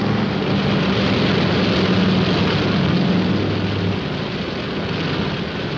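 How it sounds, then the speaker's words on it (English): A Korean War-era military helicopter on ditch patrol, a steady engine drone humming throughout, fairly loud and constant, with a rotor-like throb that fades a little toward the end. "Helicopter in the background is ditch patrol."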